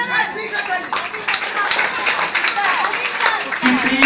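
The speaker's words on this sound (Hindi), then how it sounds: "और चार प्रतिशत जोरदार ताली होना चाहिए" An audience claps steadily, a dense patter of many hands at moderate loudness, with voices mixed into the applause.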